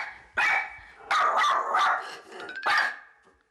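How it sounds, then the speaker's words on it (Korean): A schnauzer barks at visitors in a house, firing off several loud, close barks in quick bursts, with some yips and short growly notes between them. "문제는 수강생들에게도 한없이 짖는다는 것인데요"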